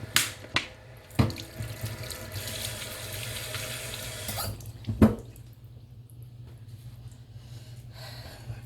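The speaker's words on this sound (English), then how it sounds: "I gotta wash my hands." Water runs from a sink tap while hands are washed, a steady splashing rush with a few clunks and taps, then the flow stops and only faint room sound remains.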